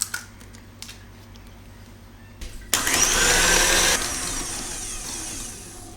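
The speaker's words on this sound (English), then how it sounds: "Now break the eggs one by one and whisk." Eggs for an orange syrup cake batter being beaten with an electric whisk, a few light taps first, then a loud steady whirring buzz that eases slightly toward the end.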